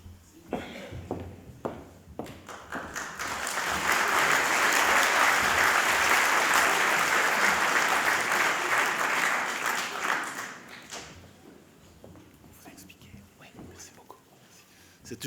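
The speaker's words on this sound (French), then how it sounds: "C'est toujours impressionnant quand on vous applaudit au début" Audience applause welcoming a speaker at an honorary academic gathering: a steady wash of clapping swells for several seconds, holds loudly, then fades, with a few scattered claps and quiet voices before and after.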